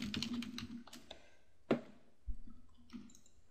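Bursts of quick keystrokes on a computer keyboard while a folder name is entered, a short fast run of taps, a pause, a louder single click and a few more light keypresses, close and clear.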